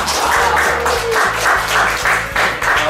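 An audience applauding at the opening of a 2018 job discussion forum for magic instructors, loud close clapping in pulsing waves over a rhythmic musical backing.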